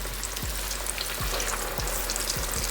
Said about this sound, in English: we're gonna place it into the hot oil just like that